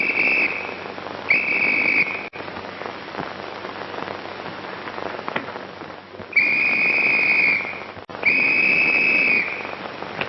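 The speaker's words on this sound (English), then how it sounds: "was you blowing a whistle?" Shrill whistle blasts sound in bursts: a long note, a short one, then two long blasts later, over steady rain-like noise with no voices.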